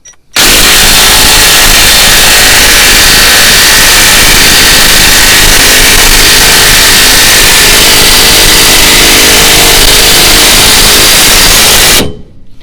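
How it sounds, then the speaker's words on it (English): Battery impact wrench pressing a ball joint into a Chevrolet Silverado control arm, one very loud, continuous hammering drone lasting about twelve seconds before it stops abruptly, close to the tool. "using a battery impact like this guy, we're going to go ahead and just squeeze the trigger, and we're going to watch it go right in"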